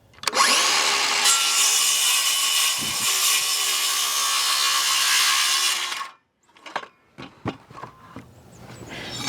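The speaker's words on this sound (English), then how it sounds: "I'll adjust my saw so that it cuts just that way of my mark" A power saw rips through a wooden deck stair stringer in one loud, continuous cut lasting about six seconds, then falls silent before a few short knocks and clatters of the board being handled.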